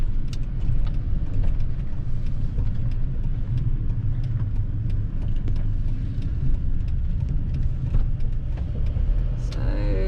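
A campervan cruises along a road toward a ferry terminal, its engine a constant low rumble with steady road and tyre noise close inside the cab and no speech.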